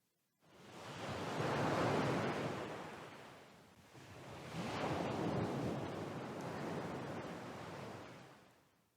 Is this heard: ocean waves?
yes